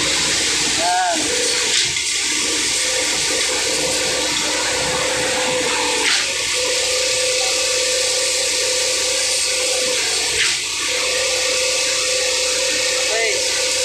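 Concrete poured into a column form at a construction site in Pasig City: a continuous loud rushing, sloshing wash over a machinery drone, with voices briefly heard above it.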